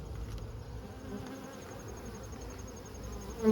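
Honey bees buzz at a hive being checked after a killing frost, a steady, fairly soft hum that rises close by near the end.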